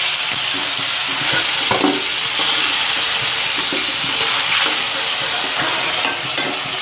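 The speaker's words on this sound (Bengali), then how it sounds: "তেল গরম হয়ে গেছে মাথাটা ভেজে নেব" A rohu fish head sizzles and crackles loudly in hot mustard oil, a continuous frying hiss with occasional sharper pops.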